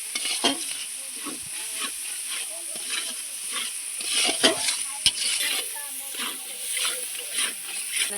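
Chicken pieces frying and being stirred for homemade desi chicken kosa, a steady sizzle with repeated scraping and clinking of a spoon against the pan, close up, with a voice speaking intermittently.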